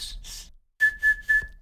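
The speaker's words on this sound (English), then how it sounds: "You should be able to drop your jaw down and still be able to create the whistle." A beatbox Ralik whistle made with the jaw dropped and teeth unclenched: a breathy lead-in, then three short, bright, steady whistle tones in quick succession, close and clear with no talk.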